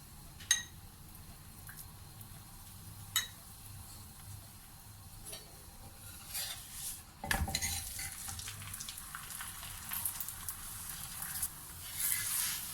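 A milky paratha cooking with ghee on a pan over low heat: a quiet, even sizzle with occasional sharp taps and scrapes of a utensil, growing a little busier toward the end, with no one talking.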